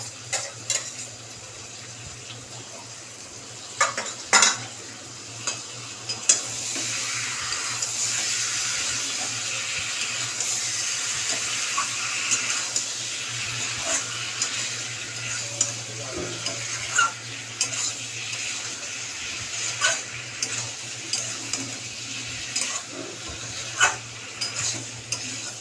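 Potato curry for a vegetarian alur dom being stirred in a pan just after yogurt went in, a loud continuous sizzle with repeated scraping and clinking strokes of a spoon throughout, no talking.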